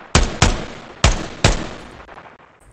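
Four sharp gunshots from the tactical shooter Ground Branch crack out in quick succession, each trailing a reverberant decay that fades through the final second, with no talking over them.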